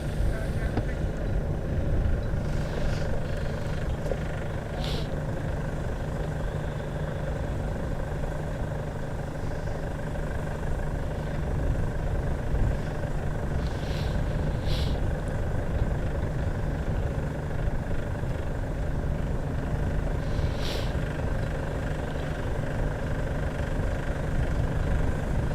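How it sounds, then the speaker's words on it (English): A Nimrod XV232 aircraft's auxiliary power unit runs with a steady, continuous engine drone during an engine run at Coventry Airport, heard from a distance with faint intermittent higher tones and no pauses. "Sounds like an APU. Yes, it is."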